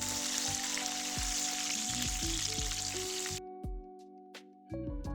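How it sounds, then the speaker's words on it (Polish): Pork cutlet frying in hot oil in an outdoor forest-clearing kitchen, a loud dense sizzle with scattered spatters that suddenly cuts off, followed by a few faint pops in near silence. "Gdy olej już skwierczy, kładziemy na niego naszego schaba i smażymy z obu stron"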